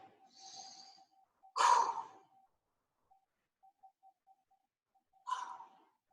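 During a stretching exercise, slow, audible breaths come close to the microphone: a soft inhale, a stronger exhale, a long quiet pause, then another breath.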